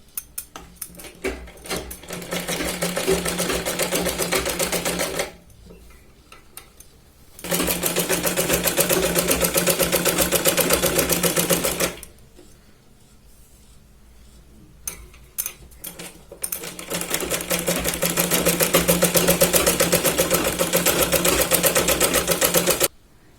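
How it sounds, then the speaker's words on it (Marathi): Sewing machine stitching a round seam along the edge of a back-neck blouse piece in bursts of several seconds, pausing twice between runs, steady and close, with no talk. "पूर्ण कडेने याला आपण राऊंड शेप मध्ये शिलाई लावून घेणार आहोत."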